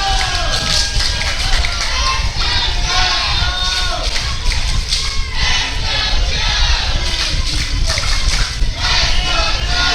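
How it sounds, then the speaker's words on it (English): A large crowd roars and cheers continuously, a loud dense wash of voices with shouts rising above it throughout. "Listen to the crowd."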